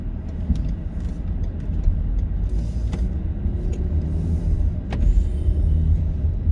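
A car cruises along the road with a steady low engine and tire rumble, the cabin noise continuous throughout with no talking.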